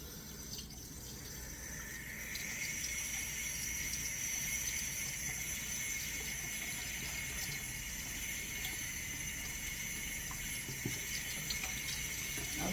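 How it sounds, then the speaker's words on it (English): Cold tap water running steadily into a kitchen sink over freshly made cottage cheese curds, a constant close hiss and splash that swells after the first couple of seconds and holds, with no talking. "just run cold water, squeeze it, run the cold water over, and you keep doing that"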